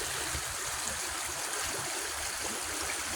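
Coldwater Creek, a shallow rocky stream about a foot deep, flowing steadily with a constant close rush and trickle of water over surface rocks, no voices.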